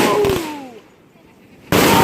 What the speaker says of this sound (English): there's some fireworks there.